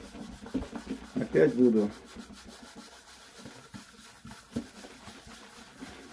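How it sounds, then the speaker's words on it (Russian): A wooden guitar body is rubbed with shellac polish in quick, close strokes that come in soft bursts, loudest near the start. Someone speaks briefly partway through. "продолжать полировку."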